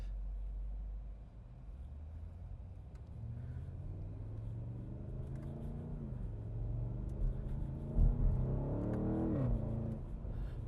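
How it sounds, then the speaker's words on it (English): 2020 BMW M850i Gran Coupe in Sport Plus mode, heard from inside while driving: a low exhaust rumble climbs in pitch as the car accelerates, with a stronger surge near the end, steady and fairly subdued, no talking. "once you put it into Sport Plus mode, the valves open up, you get some crackles and pops, and it sounds pretty good"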